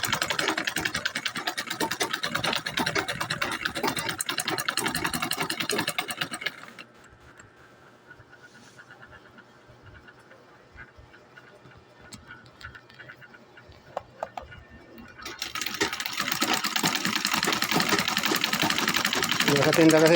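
A treadle Singer sewing machine runs in rapid loud bursts of mechanical whirring and clatter, stopping for several seconds of quieter room sound and faint voices before starting up again.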